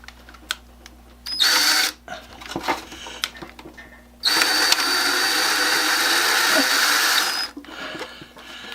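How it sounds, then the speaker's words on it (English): Two bursts of a power drill whirring as a left-handed bit backs out a screw in a Honeywell ionizing air cleaner, a short one and then a longer steady run, with small clicks and knocks between them. "Now this is a left-handed drill bit,"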